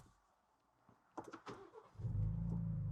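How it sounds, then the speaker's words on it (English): A Ford Bronco starts up after a few faint clicks, its engine catching and settling into a steady, close idle rumble. "you'll be able to start the vehicle up"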